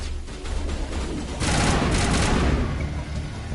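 Sustained, loud gunfire in a Mass Effect Legendary Edition firefight: a dense, rapid stream of shots that grows heavier halfway through and keeps going without a break.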